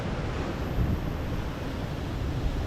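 Sea water surges against an eroding shore beside a house, a loud, steady roar of churning surf with gusty wind noise and no pauses.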